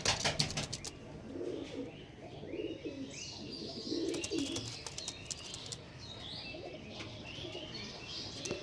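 A pair of Pulsar pigeons coo softly in low throaty bursts, with scattered chirps and brief rustles or wing flutters nearby, fairly quiet and with no one talking.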